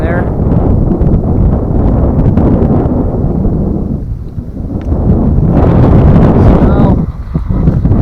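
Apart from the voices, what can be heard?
strong wind off a lake at a campsite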